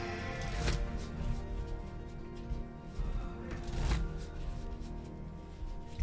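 A deck of playing cards is shuffled by hand during a magic trick, giving soft riffling and rustling bursts at close range, with a couple of sharper riffles standing out.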